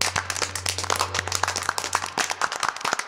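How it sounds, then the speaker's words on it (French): An audience claps and applauds before a large stage during a Delta Green tabletop role-playing session, a dense run of sharp hand claps over about three seconds, moderately loud, with a steady low hum underneath. "Ils vous applaudissent."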